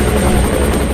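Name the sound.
helicopter flying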